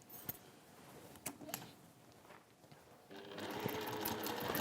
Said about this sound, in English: I'm going to sew around the top twice